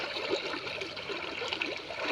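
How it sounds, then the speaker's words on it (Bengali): Water trickles and flows steadily in a drain, a continuous close-up gurgling rush with no voices. "নালা পানি যাচ্ছে"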